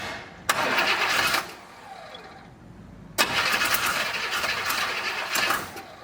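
A Buick Wildcat V8 with an HEI distributor, left unused for 21 years, cranks and catches twice: a loud, close burst of engine noise that cuts off, then a second start that keeps running.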